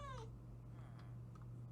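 A cat in the Minecraft video game lets out a single clear meow over a steady low background hum, with quiet game sounds following.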